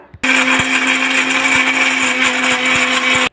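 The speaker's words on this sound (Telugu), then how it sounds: "కొబ్బరి పేస్ట్ పట్టుకుందామండి మెత్తగా" A kitchen mixer grinder blends coconut into a smooth paste, its loud, steady motor whine switching on abruptly, running without a break for about three seconds, then cutting off.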